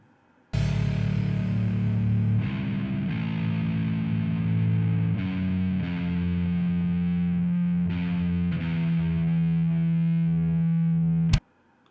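Heavily distorted electric guitar with a gritty, crunchy amp tone, sustained chords shifting every couple of seconds, loud and alone, ending abruptly.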